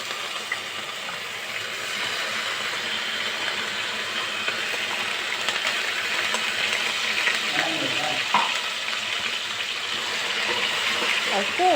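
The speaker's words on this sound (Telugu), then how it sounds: "అయితే పేస్ట్ అనేది బ్రౌన్ కలర్ వచ్చేంత వరకు యాంచాలండి" Onion paste frying in oil in a pan, a continuous close sizzle and crackle that holds steady throughout, with faint occasional clinks.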